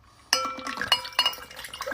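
Ice clinking and rattling in a glass as a freshly shaken drink is poured, with a sharp first clatter followed by several lighter clinks and taps, close and clear with no talk.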